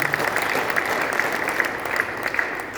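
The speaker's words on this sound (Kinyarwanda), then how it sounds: "Muyikomere amashyi." A church congregation applauds at a Rwandan gospel worship event, a dense, steady wash of clapping from many hands that holds throughout.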